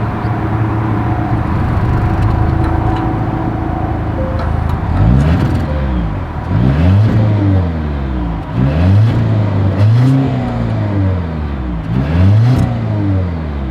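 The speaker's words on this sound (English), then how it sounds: "As always, here is that exhaust clip." A 2026 Volvo V90 Cross Country idles through its dual exhaust, then gives about five sharp revs that swell and fall back, loud and close.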